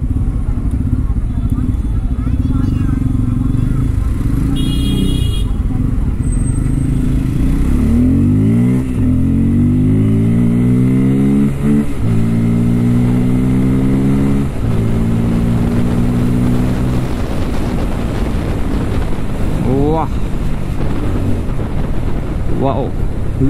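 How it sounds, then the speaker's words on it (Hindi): Bajaj Pulsar N250 motorcycle engine pulling hard while riding, rising through gears with repeated climbing pitch sweeps, loud under constant wind buffeting at the microphone. "लिटरली यार क्या पंच है बाइक के अंदर, और साउंड सुन रहे हो"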